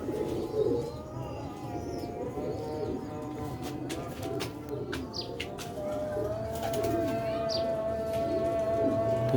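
Rooftop pigeons coo in soft, repeated low calls close by, with occasional chirps and brief wing flaps over a steady background murmur.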